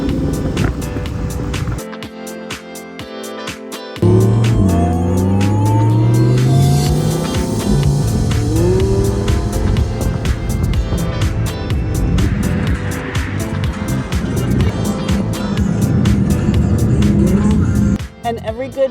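A Lamborghini Huracan Evo Spyder convertible pulls away and accelerates, its engine rising to a loud, sustained roar with shifting harmonic sweeps that holds for over ten seconds before cutting off; some talk occurs near the start.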